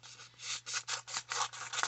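Craft material being cut down without scissors, likely torn or scored by hand: a series of rhythmic rough scraping, rasping strokes, close and steady, under a faint low hum.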